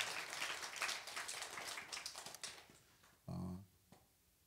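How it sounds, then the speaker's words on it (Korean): A congregation at a church service breaks into applause, a dense wash of clapping that swells and then fades, fairly distant and soft, followed by a brief low burst near the end. "하나님께 영광의 박수 올리겠습니다"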